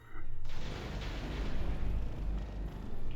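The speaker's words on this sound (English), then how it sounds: "Next, Volcanic Explosion." Volcanic Explosion area attack from the Mine Piece mod in Minecraft, heard as a sudden loud, rumbling blast that holds as a dense roar of crackling debris with no talk.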